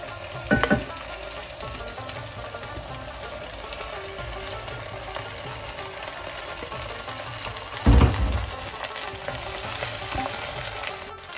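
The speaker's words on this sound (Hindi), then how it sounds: "तो आप इसके अंदर मैं भिंडी डालने वाली हूँ" Okra hitting a pan of browned onions, crackling in a continuous frying sizzle with two louder bursts of stirring and clatter, close and unvoiced.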